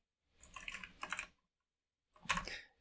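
Two quick bursts of typing on a computer keyboard, close and crisp, with a short pause between them and silence around them.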